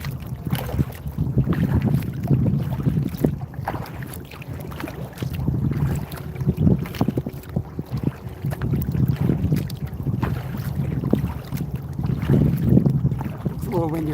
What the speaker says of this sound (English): It's a little windier out here than I thought.